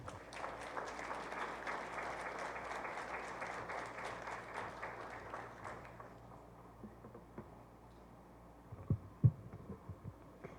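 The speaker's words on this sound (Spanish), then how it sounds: "Demos un fuerte aplauso a nuestra conferencista." Audience applause for a lecturer at a formal conference, steady but fairly faint for about six seconds, then fading out into a quiet room with a few louder thumps near the end.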